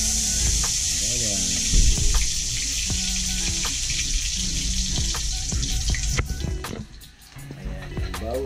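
Garlic sizzling and frying in a hot pan for an Filipino chicken afritada, a steady close hiss with occasional clicks and stirring knocks, with a voice speaking over it.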